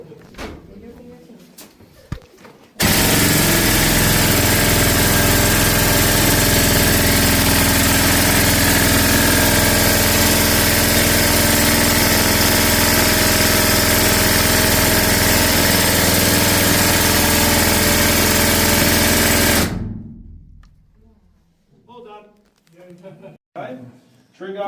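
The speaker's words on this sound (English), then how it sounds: "drill steel rotate for you 600 times a minute, much more manoeuvrable drill, 2 metres deep in 5 minutes" A pneumatic drill in a Bendigo gold mine, driven by compressed air with the drill steel rotating 600 times a minute, roars loud and continuous for about seventeen seconds, then cuts off abruptly, with voices before and after.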